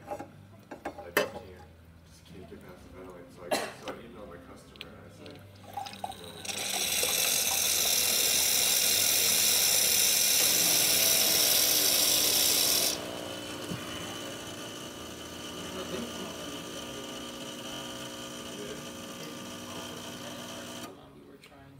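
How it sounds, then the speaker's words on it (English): A Pasquini Livia espresso machine dispenses from its hot-water outlet with a loud, steady hiss lasting several seconds, framed by clicks and a lower mechanical hum before and after. "So check the hot water function on this machine."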